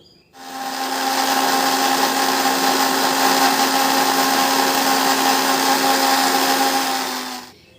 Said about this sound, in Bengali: এবার আমি একটা মিক্সির জার নিয়েছি, এই জারের মধ্যে পাতাগুলো সব তুলে নিচ্ছি।